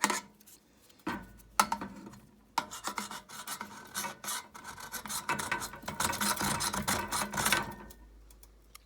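Rubber bits being pulled and scraped off steel parts of a Tim Hortons coffee machine being stripped for scrap, a few short rasps early, then a sustained, busier stretch of rubbing and metallic scraping close by with no talk.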